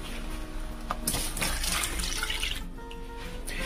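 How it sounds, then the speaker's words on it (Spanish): A little water is poured into a hot pan holding stuffed scallops, giving a steady, close hiss and splash that lasts a few seconds. "Y ahora le pones un poquito de agua."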